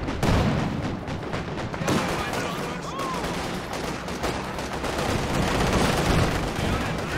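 Gunfire and artillery in the video game Company of Heroes 2 rattle on continuously, with dense bursts of shots and heavier booms behind a commentator talking throughout.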